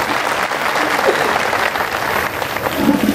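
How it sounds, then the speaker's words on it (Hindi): An audience at a speech event on the Constitution claps loudly and steadily for a few seconds, a dense wash of many hands close to the microphone. "अपने लिए आप जोरदार ताली बजाएं।"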